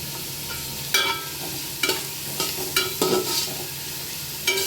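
Carrot and capsicum fry with spices in a pan, a steady sizzle punctuated by repeated, regular scraping strokes of a spatula, close and fairly loud.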